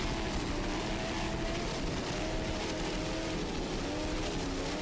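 A steady, loud whirring drone of a helicopter filming an offshore powerboat race, continuous throughout with a rapid chopping texture and no pauses.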